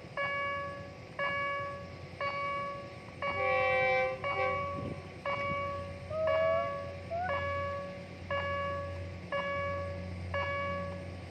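A train horn sounds in repeated long blasts, loud and near, over the rumble of a train accelerating along the tracks at Pak Nam Pho, Thailand.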